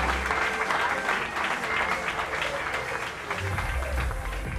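Audience applause at a 2013 professional Muay Thai championship in Armenia, dense continuous clapping from a crowd in a hall, steady and fairly loud, with low rumble and murmur underneath.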